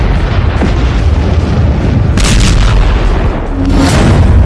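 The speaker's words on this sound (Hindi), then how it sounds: "पुतिन मारेंगे परमाणु बम" Nuclear bomb explosion sound effect: a heavy, sustained roaring rumble with deep booming energy and crackling bursts, loud and continuous throughout.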